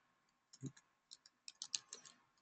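Typing on a computer keyboard while entering a contact name into CRM software, a quick irregular run of light key clicks, close and fairly quiet, with no voices.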